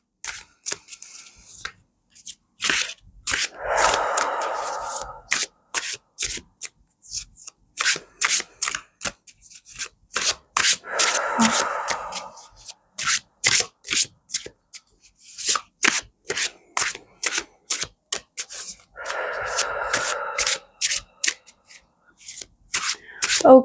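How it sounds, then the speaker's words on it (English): Tarot cards are shuffled by hand in quick rhythmic bursts of riffling and sliding, repeating in three longer waves separated by sharp individual card slaps and taps, with no voice. "I'll start by shuffling the cards"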